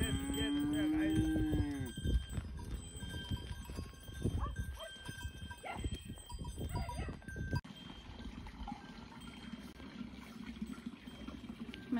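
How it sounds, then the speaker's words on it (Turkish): Grazing cattle in a rural pasture at evening: one long, loud moo up close, followed by scattered rustling, clanking cowbells and fainter bovine sounds in open air. "Arkadaşlar inekler yayılmaya devam edecek akşam."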